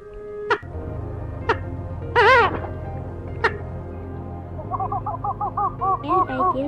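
Eurasian coot calls played as a recorded bird-trapping lure: sharp single notes and clicks, then a wavering, nasal call and a quick run of repeated short chirping notes, loud and close over a faint steady hum.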